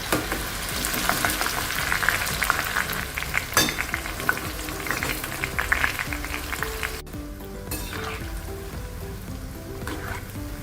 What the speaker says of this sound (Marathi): आता हे बघा, तेल ना अगदी कडकडीत नाही करायचे, लो टू मीडियम हीट ठेवायचे आणि आता हे तळून घेऊया